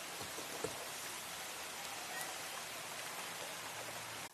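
Steady outdoor rainfall makes a continuous broadband hiss with faint scattered drop ticks, even and moderately quiet throughout with no voices.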